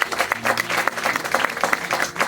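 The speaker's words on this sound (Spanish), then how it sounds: "¿Cuántos pueden aplaudir al Señor por eso?" Church congregation applauding at an evangelistic service in Valledupar, Colombia, with dense steady clapping that swells in bursts and carries a faint undertone of voices throughout.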